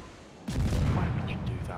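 A naval gun salvo from the destroyer Gnevny in World of Warships booms out suddenly and loudly, its heavy rumble carrying on for a moment afterward.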